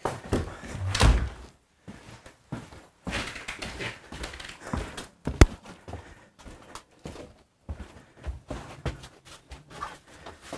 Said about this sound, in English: I just need to shut that door because the children are a little bit too loud